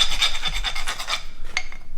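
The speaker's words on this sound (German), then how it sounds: "Da unten wird fleißig gefeilt." Metal being filed on an Audi A4 part in a workshop, a close rhythmic rasping of repeated strokes, then a few light metallic clinks.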